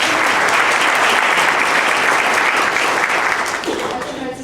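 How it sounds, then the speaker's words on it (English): Dense, sustained audience applause for Professor Munoz fills a panel discussion hall, loud and even for several seconds before starting to fade. "can we also give a warm round of applause to Professor Munoz"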